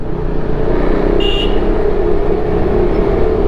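A fully loaded vehicle drives along a rough road from Kathmandu toward Pokhara, its engine and tyres making a loud, steady rumbling drone with constant road noise and no voices.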